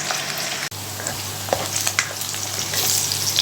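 Onions sizzling in a pan for a potato and spinach dish, a steady crackling fry with occasional stirring clicks and one sharp knock, close and fairly loud with no talking.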